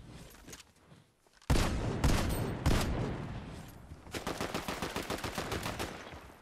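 Rapid bursts of gunfire from a Fortnite Zero Build solo battle: a sharp shot, then a loud barrage of repeated shots, and finally a fast automatic rattle, all fairly close with no talk over it.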